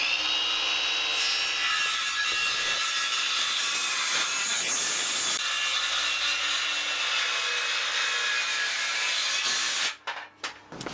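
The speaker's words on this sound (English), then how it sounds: "I used my cordless circular saw in a few passes" Cordless circular saw cutting through wooden boards in a long, continuous, loud whining cut, heard up close, before the blade spins down to a stop near the end.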